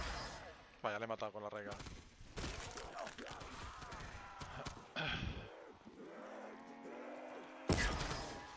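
Bursts of Call of Duty: Black Ops 3 gunfire on a custom map crackle between stretches of excited talk, with loud blasts clustered near the start and again at the end.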